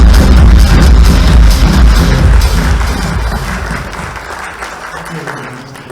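Loud applause from a large audience, dense clapping that gradually fades over several seconds, with some voices mixed in.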